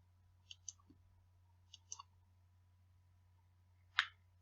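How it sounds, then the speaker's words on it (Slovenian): Several sharp computer mouse clicks, isolated and fairly quiet, sound in a small cluster, then one louder click near the end, over a faint low electrical hum in an otherwise quiet room. "Kliknemo na miško."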